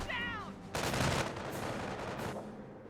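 Machine-gun suppressive fire in the World War II strategy game Company of Heroes plays as a dense, rapid crackle of gunfire that starts abruptly and keeps going, with a brief voice just before it.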